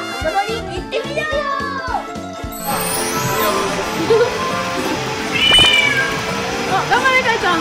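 A child imitates a cat's meow at an indoor play facility, giving several drawn-out, high, wavering mews, with other children and adults talking and playing nearby.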